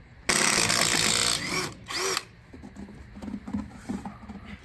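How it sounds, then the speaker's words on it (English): A vehicle's differential on a two-ton military G Wagon is jacked up with a loud buzzing power-tool whir in two bursts, then lighter clicks and rattles as the jack settles. "Jacking up the diff."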